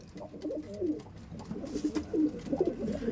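Andhra pigeons, a breeding pair, cooing in soft, repeated low throaty phrases close by, with several overlapping coos across the span and no talk.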